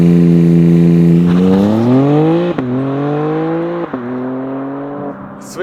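A 2025 BMW M car launches hard from a launch-control start, its engine note climbing loud and close through rising harmonics with two brief dips at gear shifts before pulling on, no talk over it.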